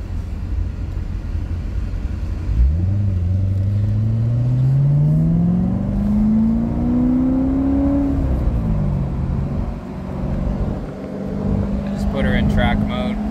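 A 2016 Chevrolet Corvette engine revs up in one long rising pull lasting several seconds, then drops back to a steady drone, loud and close throughout.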